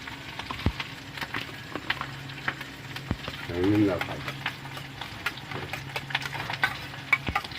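Egg curry masala with sour yogurt is stir-fried in a pan, a spatula scraping and stirring through a low sizzle with intermittent clacks, and a brief rumbling swell partway through.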